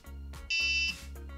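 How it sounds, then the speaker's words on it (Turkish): A single sustained electronic buzzer tone from an Arduino RFID card reader, a high steady beep lasting under half a second, over a low background hum. "Buzzer'ımız farklı sesle öttü."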